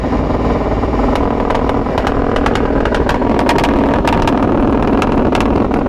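A BMW car engine held hard against its rev limiter, a loud, continuous buzzing roar with rapid stuttering cuts throughout, close and steady with no talk.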